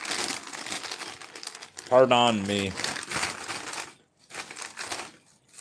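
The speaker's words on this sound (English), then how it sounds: "I'm eating crackers as I attempt to read this book" Crisp crinkling of a cracker wrapper mixed with crunchy chewing on crackers, heard up close in bursts, while a voice briefly speaks partway through.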